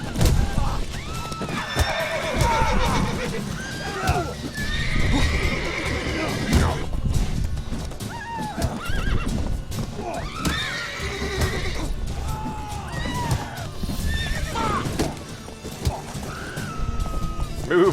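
A horse whinnies several times over the repeated clip-clop of hooves in The Witcher 3, with game-style effects and some background voices mixed in.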